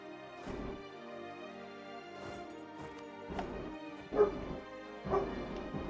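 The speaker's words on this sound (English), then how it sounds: "Uh-oh, my dog is barking at someone." A pet dog barks at someone arriving, giving about five sharp, separate barks spaced unevenly over several seconds, fairly faint and slightly distant, with no voices.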